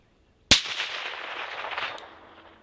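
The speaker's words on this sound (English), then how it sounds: "Go ahead and shoot the rest of the mag." A single sharp rifle shot from a CMMG Resolute AR-15 chambered in 350 Legend at an outdoor range, loud and close, followed by a long rolling echo that fades over about two seconds.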